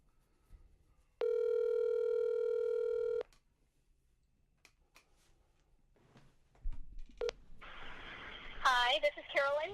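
A cell phone call is placed: a steady dial tone for about two seconds, then clicks and short beeps, and at the end a wavering ringback or answering tone, with brief talk in between.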